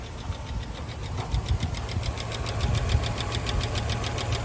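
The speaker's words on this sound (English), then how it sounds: "She's a little ticky, but it is a Hemi." A salvage-yard 5.7 Hemi V8 in a smashed Jeep Grand Cherokee idles steadily up close, its low rumble carrying a rapid, faint metallic ticking throughout, with no talking.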